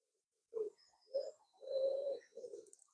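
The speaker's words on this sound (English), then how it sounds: "Pigeons everywhere, honestly" Pigeons cooing at a quiet caravan park in East Yorkshire, a few soft, low, close calls in a short rhythmic phrase against near silence.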